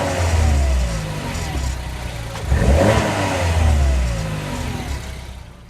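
A Peugeot 308 GTI prototype's engine revs hard from inside the car, rising and falling in loud bursts with a strong throaty low end, briefly easing off before climbing again.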